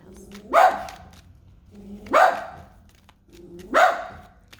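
A dog barks three times at an even pace, each bark loud and close, with quiet pauses between them.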